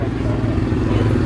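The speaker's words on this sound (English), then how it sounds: "Sorry if the audio is bad, everybody's engine's on." Many car engines idle together at a drag racing car show, FL2K 2018 in Bradenton, Florida, forming a dense, loud, continuous low rumble with a slight rhythmic throb.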